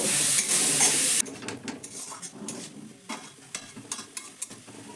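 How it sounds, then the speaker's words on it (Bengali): Cauliflower is stirred with salt and spices in a frying pan for a vegetarian paratha filling: a loud hiss at first, then a softer sizzle with irregular spatula scrapes and clinks against the pan. "মশলার সঙ্গে ফুলকপিটাকে একটু মিশিয়ে নেব"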